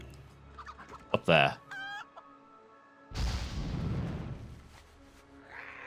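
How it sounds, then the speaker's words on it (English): A chicken in the World of Warcraft video game clucks in a short burst of sharp, close calls with a brief crowing note, followed by a whooshing rush of game sound; someone speaks briefly. "I still need to catch another unassuming chicken"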